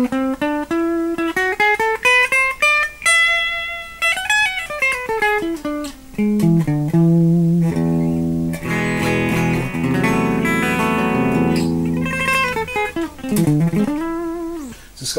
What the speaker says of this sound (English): So the fifth mode of A melodic minor is E,